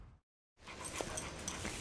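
A dog whimpers softly in the Fetch video game, a few faint high whines after a brief silence, close and quiet.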